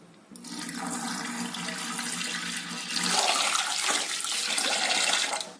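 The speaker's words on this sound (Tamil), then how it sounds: "அரிசி கழுவும் போது நல்லா தண்ணி விட்டு நல்லா கையில் பிசைஞ்சு நாலு தடவை கழுவணுங்க" Rice being washed by hand in a bowl of water for millet idli and dosa batter, a steady close sloshing and swishing that grows louder and busier in the second half, with no talking.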